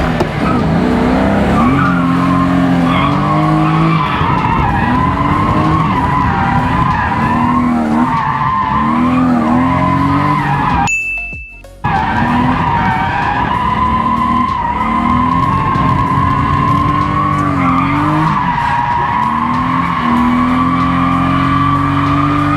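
A BMW E36 with a six-speed gearbox swap drifts on a handbrake-initiated run, its tires screeching loudly and continuously over the engine's strained drone, with a brief sudden dropout partway through.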